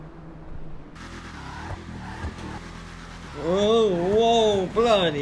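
A car launches hard with line lock in GTA 5 during a Bravado versus Vapid comparison, the engine revving and rising through gear changes, loud and close, with someone talking over it.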